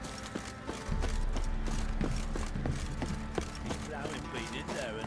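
A horse's hooves clip-clop in a regular, quickening rhythm in the fantasy role-playing game The Witcher 3, heard under music with someone talking over it.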